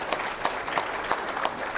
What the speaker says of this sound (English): let's give a big thanks, a round of applause